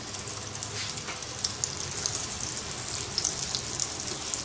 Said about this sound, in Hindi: ऑयल अच्छे से हीटअप हो चुका है। अब इन पीसेस को फ्राई कर लेते हैं।